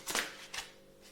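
Tarot cards shuffled and drawn by hand, two quick papery riffles close to the mic, the first stronger, then near silence.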